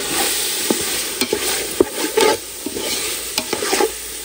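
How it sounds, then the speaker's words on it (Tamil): Quail masala for quail biryani being stirred and fried in a pan, loud close sizzling broken by repeated sharp scrapes and clacks of a spoon against the pan, with no voices. "அப்படியே கொஞ்சம் அரை வேக்காடு வர வரைக்கும் நம்ம அப்படியே கிண்டி விட்டு வேக வச்சுக்கலாம்"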